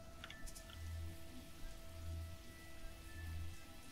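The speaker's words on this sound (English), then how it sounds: "Rain!" Rain falls in the Sheltered video game as a steady, soft patter with faint drips. A low periodic hum pulses underneath, and no one speaks.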